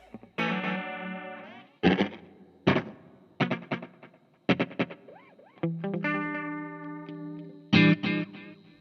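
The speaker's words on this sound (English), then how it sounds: "let's see if we can make the modulation maybe a little more subtle" An electric guitar plays choppy strummed chords and short riffs through a Fender HammerTone Space Delay pedal, with echoing repeats and a gentle wavering shimmer on the sustained notes.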